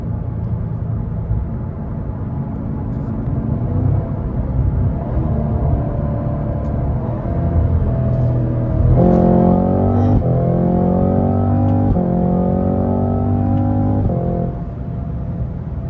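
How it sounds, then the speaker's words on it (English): A Cadillac CT5-V Blackwing with a stock supercharger drives at night, a loud steady engine drone rising in pitch midway as the whine climbs and holds before easing back. "I love that whine. Got the little baby supercharger on there"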